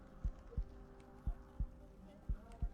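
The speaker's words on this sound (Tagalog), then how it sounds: "heartbeat ko, kinakabahan ako." Heartbeat sound effect in a video game: six soft, low thumps in steady paired beats over a faint hum, with no talk.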